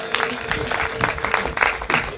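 A congregation claps along together at a Christmas celebration, a steady run of hand claps with a faint voice or music underneath throughout.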